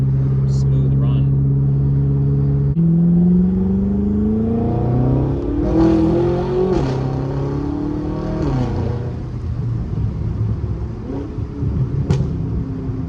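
BMW F10 M5 with Turner muffler deletes, exhaust droning and revving as it climbs through gears, rising engine tones, then burbling off-throttle with a few pops on downshift; a voice talks over it.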